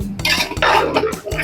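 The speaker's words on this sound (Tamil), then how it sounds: "எல்லாத்தையும் போட்டு எல்லாத்தையும் ஒரு கிண்டிக்கலாம்." Vegetable biryani stirred in a pot with a metal spoon, giving short scraping and clinking strokes close by, repeated in a quick rhythm over a low hum.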